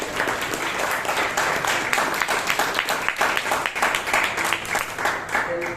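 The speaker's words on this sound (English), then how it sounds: "can you have a round of applause for the Toastmasters?" Audience applause at a Bangalore Toastmasters meeting, steady dense clapping from a crowd that fills the whole stretch at a fairly loud level, with a faint voice surfacing near the end.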